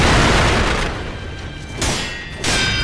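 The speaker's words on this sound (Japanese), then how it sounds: "この爆竹とか使ってるか。" Firecrackers burst in the video game Sekiro, giving loud, crackling booms with a noisy wash in between. A fresh burst hits near the end and then another just after.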